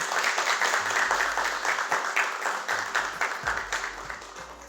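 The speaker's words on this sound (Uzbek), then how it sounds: "mana bu yangraydigan qarsaklar har uchala ishtirokchimiz uchun" Sustained applause from a television quiz show studio audience for three contestants, many hands clapping in a rapid, even patter that gradually fades in loudness.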